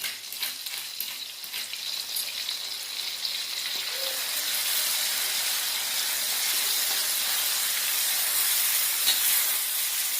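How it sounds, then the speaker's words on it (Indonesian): Green chilies sizzle steadily in hot oil, a bright crackling hiss that grows louder and denser, with occasional faint stirring. "Kita tumis cabai hijaunya sampai berubah warna dan wangi."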